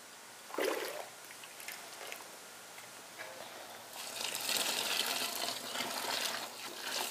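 Water from a pitcher pours onto grain during all-grain beer brewing at home: soft trickles and a few drips at first, then a broader, steadier splashing pour, all fairly faint and without talking.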